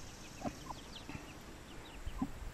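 Soft, scattered clucks from several chickens, fairly faint and a little distant, over a low steady background.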